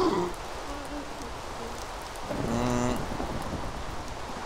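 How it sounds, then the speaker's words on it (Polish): Steady hiss of rain falling in Minecraft, a broad continuous wash under a brief excited voice and a tonal game sound around the middle. "Deszcz!"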